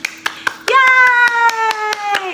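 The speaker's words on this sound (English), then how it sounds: "Clap your hands. Keep on clapping." Children clap their hands to a song during a music and storytelling session, giving a regular beat of sharp claps while a sustained sung tone runs over them.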